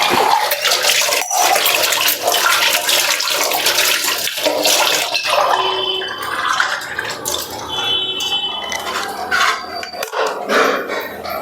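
Water being poured at home on a hot day, a steady loud rushing and splashing that runs almost unbroken for about eleven seconds, with no talking over it.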